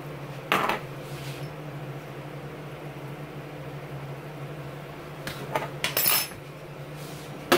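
A spoon clinks against pots and dishes while chicken scampi is cooked, a few sharp metallic taps over a steady low hum of a kitchen appliance, with no talk.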